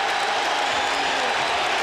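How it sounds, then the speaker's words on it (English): A basketball arena crowd in Philadelphia stands and cheers, a steady roar of applause and voices filling the space at even loudness throughout. "And they're standing and cheering here in Philadelphia"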